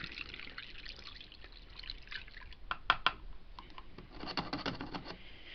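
White vinegar is poured into a one-cup measuring cup, a soft, steady trickle with a few brighter drips and splashes near the middle and toward the end, fairly close and quiet with no talking.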